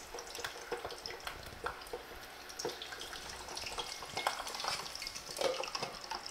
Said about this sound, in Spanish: Ok, entonces ya tenemos el aceite caliente y vamos a freírlos.